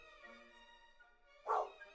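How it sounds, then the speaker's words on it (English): Faint, quiet dog sound in a children's story, with a soft drawn-out whine followed by a single short louder bark near the end, heard alone without talk. "A dog barked."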